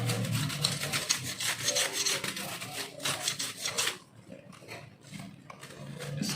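Fiber cloth rubbing over HP Pavilion DV4 laptop parts, a close, steady rasping wipe with repeated strokes that soften and thin out in the last couple of seconds; no talking.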